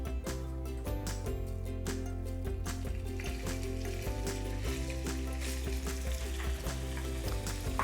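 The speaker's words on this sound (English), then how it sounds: "Then we're gonna start off with our bacon. Get that browning a little bit, turn the pan up to about a medium-high heat." Bacon browning in a pan over medium-high heat, a steady crackling sizzle with strong low hum and tonal background, continuous and fairly loud throughout.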